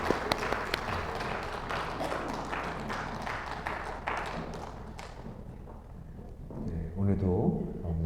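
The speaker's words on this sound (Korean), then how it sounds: "다시 한번 크게 박수로." Congregation clapping in a church during Sunday worship, a dense burst of hand claps and taps for the choir, fading out midway before a voice speaks near the end.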